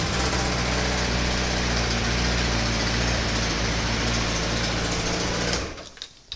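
A car engine with a wand immobiliser, just started after the fuel pump primes, runs loud and steady with a dense, high-revving buzz close by, then cuts abruptly near the end, leaving brief quiet.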